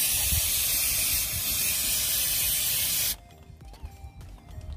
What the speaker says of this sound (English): Went round and just sprayed anything